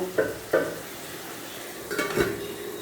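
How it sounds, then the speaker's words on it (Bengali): Stirring jhinge aloo (ridge gourd and potato) curry in a pan with a little water, a few soft scrapes and clinks of a spoon over a low sizzle, close and quiet. "এবার ভালোভাবে নেড়ে দেব।"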